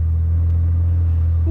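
A Mercedes tuned by AMG Japan idles with a low, steady engine drone, close and continuous, with a brief voice heard near the end.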